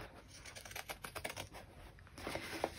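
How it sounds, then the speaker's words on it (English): Pinking shears snip along a curved edge of fabric for a sewn bag, a quick faint series of crisp cutting clicks followed by a few louder snips. "I'm going to use pinking shears along this curve, but you can alternatively just use a pair of scissors to cut small triangles into it"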